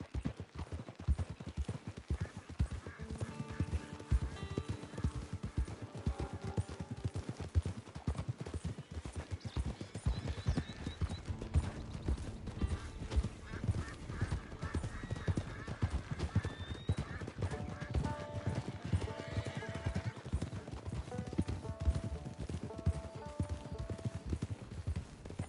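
Horse hooves clip-clopping steadily in the Red Dead Online video game, a fast continuous rhythm of close hoofbeats under game music and occasional talk.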